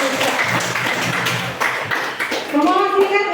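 Students in a classroom applaud together during a physics lesson on heat transfer, giving a brief burst of clapping that fades before a voice speaks.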